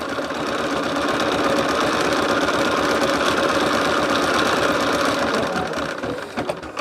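An embroidery sewing machine stitches a design onto a lumbar pillow panel held in a hoop, giving a steady, loud, fast mechanical whir and rapid needle chatter that runs without pause, no talking heard.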